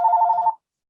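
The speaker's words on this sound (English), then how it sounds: "Sorry about the phone there" A telephone rings once in a short, bright electronic trill that lasts about half a second and then cuts off into silence, close and fairly loud.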